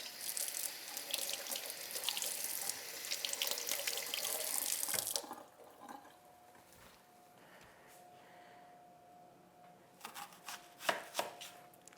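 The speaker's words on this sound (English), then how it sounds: "I'm going to give this onion and my knife a quick rinse." Tap water runs into a kitchen sink, rinsing an onion and a knife, as a loud steady hiss that cuts off after about five seconds, leaving quiet room sound with a few clinks and knocks.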